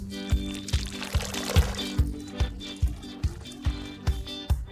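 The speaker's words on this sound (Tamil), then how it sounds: "அதை அன்னாச்சி கிளாஸில் ஊற்றி அலங்கரிக்கவும்." A cocktail is poured into a pineapple glass in a steady liquid stream. A regular thumping beat runs underneath.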